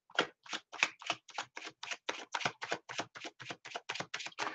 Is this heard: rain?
no